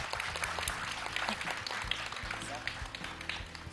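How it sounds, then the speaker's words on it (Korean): Audience applause for the presenters at the close of a 2019 early-childhood arts education results-sharing conference, a steady wash of many hands clapping throughout, with some talk or background voices mixed in. "오늘 함께 주신 우리 발표자분들께 다시 한번 박수 부탁드리겠습니다."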